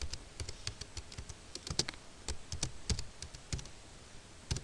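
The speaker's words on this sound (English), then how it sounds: "So I'll type computer class," Quick, irregular keystrokes on a computer keyboard as a folder name is typed, close, crisp clicks in bursts with brief pauses between words.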